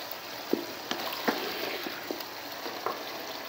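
Chicken kofta masala being fried down in a pan, a steady hiss of sizzling with occasional soft knocks of a spoon against the pan, close and continuous with no talk.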